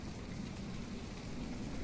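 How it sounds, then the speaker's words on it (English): Heavy stormy-weather rain in the naval combat game From The Depths pours as a dense, steady hiss with a low rumbling undertone, continuous and loud throughout with no voices. "So it's a very stormy day, which is unfortunate."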